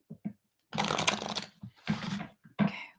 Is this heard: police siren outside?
no